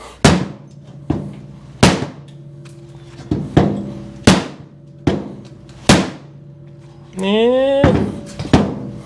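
Sharp wooden knocks from a hammer hitting a wood block against the fender of a 1956 Chevy wagon, about seven evenly spaced blows, loud and close, with a brief metallic squeal between strikes.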